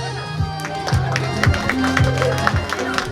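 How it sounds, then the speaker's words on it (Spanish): Crowd claps at a girl's birthday presentation party while a music track with a steady beat plays over it and voices murmur underneath. "Fuerte los aplausos."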